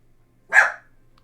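A single sharp bark from a puppy reacting to someone coming in the door, short and fairly close, standing alone against a quiet room.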